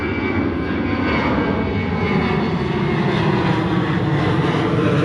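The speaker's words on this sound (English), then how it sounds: "Oh, here comes Southwest Airlines." A Southwest Airlines airliner passes overhead near San Diego, producing a loud, continuous engine roar that holds steady throughout with no voices.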